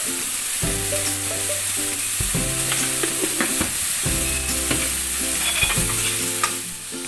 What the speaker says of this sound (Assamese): চয়াবিনখিনি দি দিম আৰু ধুনীয়াকৈ ভাজি ল'ম